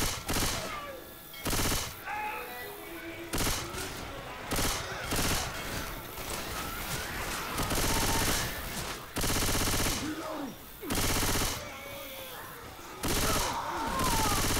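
Sustained automatic gunfire in Left 4 Dead 2, loud close bursts of rapid shots repeating in long runs with brief pauses between volleys.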